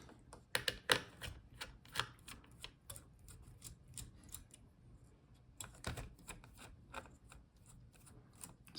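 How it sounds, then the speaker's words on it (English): Small screws are worked loose from the heatsink of an MSI Raider GE78 laptop, a close run of quick irregular clicks and ticks from the screwdriver, with brief pauses between bursts. "So unscrew all the screws for the heatsink."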